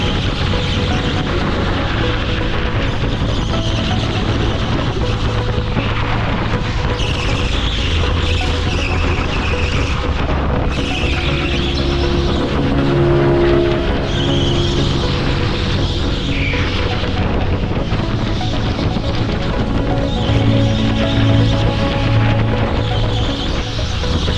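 A go-kart drives a full hot lap at the TeamSport Stoke indoor track, its engine droning loudly and continuously throughout with faint tyre squeals and rising and falling revs.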